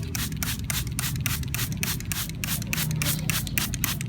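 Rapid, rhythmic bursts of a hand sprayer misting organic tobacco and garlic pesticide over garden plants, a steady train of close, hissing puffs repeating about every quarter second over a low background rumble.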